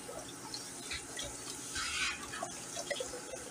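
Beef broth pouring into a cooking pot for goulash, a steady liquid splash and gurgle held at moderate volume for several seconds.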